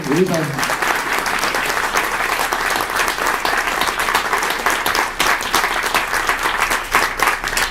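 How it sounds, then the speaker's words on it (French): Sustained applause from an audience at a French-language excellence awards ceremony, steady and dense clapping throughout, with a brief voice at the very start. "on devrait applaudir tous les autres individus qui ont été là"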